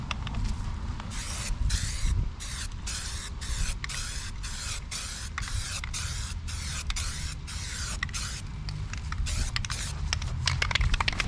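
Spray paint hisses onto the side of a van in a long run of short, rhythmic bursts, each a few tenths of a second, close and steady.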